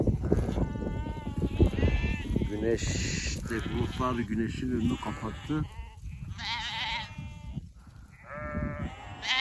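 Sheep and lambs bleat repeatedly while grazing in open fields, several calls overlapping near and far, with crows cawing now and then and someone talking throughout.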